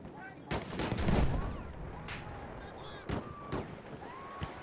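BAR rifle fire in an online shooter game, heard as scattered sharp shots and short bursts under a steady bed of game noise, with a player talking over part of it.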